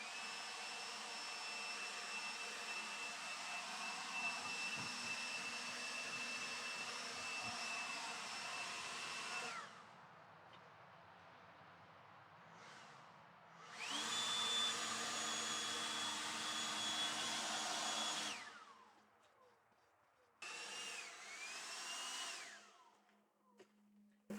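A blower on its turbo setting roars loudly while clearing dust, a steady high whine that cuts off twice and starts up again in bursts before finally winding down.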